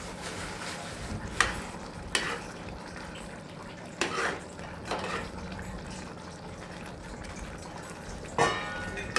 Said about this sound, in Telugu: యాడ్ చేసి ఒక్కసారి మిక్స్ చేయండి అవి రెండింటిని